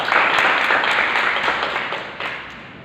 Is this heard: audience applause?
yes